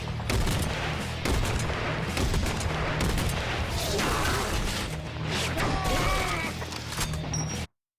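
Mortar barrages and gunfire in a Fallout game battle, a dense continuous roar of booms and rattling shots with sharp cracks, loud and unbroken until an abrupt cutoff.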